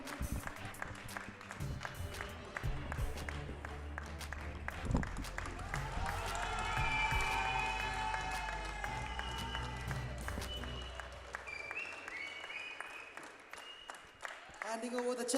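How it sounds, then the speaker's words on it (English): Sustained crowd applause and cheering at a badminton club championship prize presentation, with music or announcements mixed in, loud and continuous throughout before tapering off near the end. "let's give a big round of applause to Fly Power UAE"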